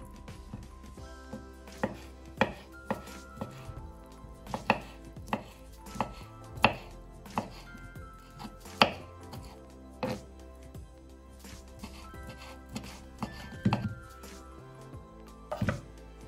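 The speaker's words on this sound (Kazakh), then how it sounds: "Ең алдымен осы ысталған тауық етін жақсылап турап алатын боламыз." A knife chops smoked chicken meat for a salad, with sharp, close strikes landing in a quick, uneven rhythm throughout and no talk.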